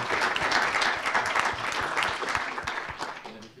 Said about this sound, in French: Peut-être on peut d'ailleurs applaudir